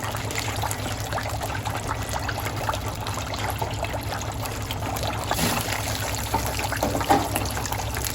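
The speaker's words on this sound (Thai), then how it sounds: "หลังจากนั้นเราก็จะทอดชิปต่อเลยนะครับ" Chips frying in hot oil for British-style fish and chips, a steady close sizzle and crackle running evenly throughout with no talk.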